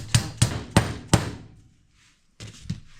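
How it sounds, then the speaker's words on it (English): A hammer taps a Volkswagen Vanagon CV joint onto its axle in four sharp, evenly spaced metallic knocks up close, then a pause and two lighter taps. "I'm going to be careful not to hammer this all the way past that spot."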